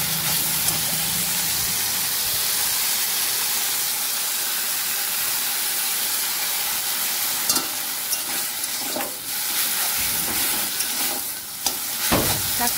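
Leafy greens cooking in a pan at home, a steady bright sizzle and hiss running throughout, with a few scraping stirs and clatters near the end, close and continuous.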